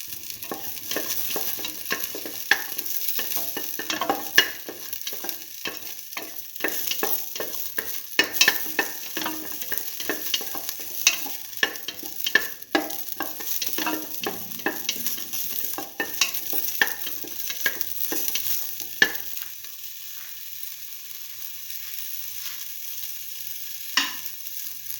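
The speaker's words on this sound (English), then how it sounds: "Now let the shallots fry for some time." Shallots frying in a pan with a soft, continuous sizzle, broken by scattered crackles and occasional stirring scrapes, steady and close for most of the time before settling to a quieter hiss near the end.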